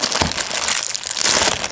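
Crinkly plastic packaging is torn away from a Thomas toy engine, giving a loud, continuous crackling and crumpling up close with no talk.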